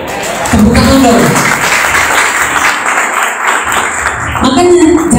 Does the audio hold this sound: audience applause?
yes